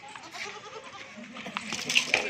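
A goat for sale on a goat farm, kept with her three kids, bleats in a short wavering call amid farmyard noise, with people talking nearby.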